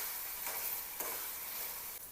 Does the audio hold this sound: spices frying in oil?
yes